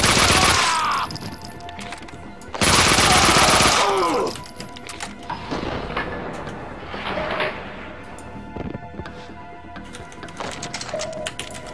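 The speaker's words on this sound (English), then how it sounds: "Holy crap, man, that was a bad nade." A grenade in the video game Max Payne 2 goes off in two loud, broad blasts, with the second longer and heavier. Rattling gunfire and debris follow and fade into scattered clatter.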